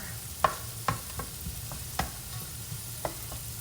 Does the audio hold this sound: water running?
no